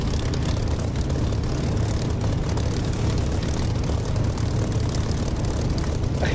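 Propeller aircraft engine drones at around 1500 RPM while taxiing in the flight simulator DCS, a loud, constant low rumble with no let-up.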